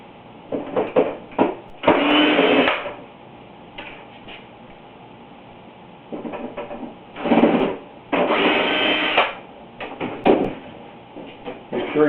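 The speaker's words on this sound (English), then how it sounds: "turn the dehumidifier around and remove the back panel." Back panel being removed from a Frigidaire LAD704DUL dehumidifier, with bursts of scraping, rubbing plastic and clunks spread through the stretch and no talking over it.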